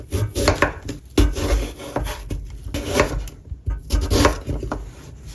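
A knife chopping vegetables such as carrot on a board, with quick irregular bursts of close, loud thuds, some scraping in between and no talking.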